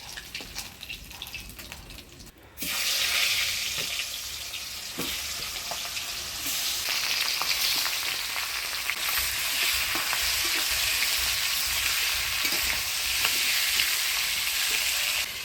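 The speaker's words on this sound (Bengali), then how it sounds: "মুড়াগুলো বেশ লাল করে ভেজে নিলাম এবার তুলে নিচ্ছি বাকি মুড়াগুলো এইভাবে ভেজে নিব" Fish heads fry in a pan of hot oil in a Bengali village kitchen until they turn red. The sizzling is loud and continuous, and it jumps up sharply when more pieces go in.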